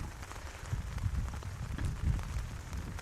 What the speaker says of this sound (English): It's a wet and windy day here